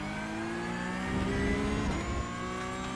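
Race car engine in iRacing, a loud, dense mechanical drone with layered tonal harmonics that rise and swell slightly midway, continuous and close with no talk.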